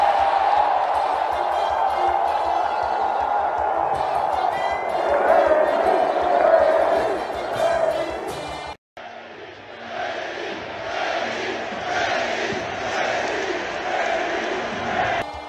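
A packed NFL stadium roars as the Tampa Bay Buccaneers are introduced against the Patriots, a loud sustained wash of cheering and yelling that dips briefly, then resumes over a booming announcer-style voice.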